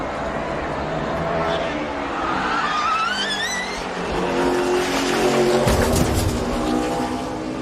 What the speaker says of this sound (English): and then you see the massive impact of the safer barrier right there